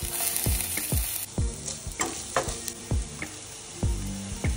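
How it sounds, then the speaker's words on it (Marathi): Beans, carrots and corn sautéed in a favourite pan, with a soft sizzle under about a dozen sharp, evenly spaced knocks and scrapes of a spoon stirring against the metal. "बीन्स आणि कॅरेट टाकून आपण ह्याला आता सौते करू"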